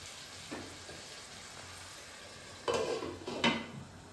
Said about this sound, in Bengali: একটু টাইম নিয়ে আমি মাংসটাকে কষাচ্ছি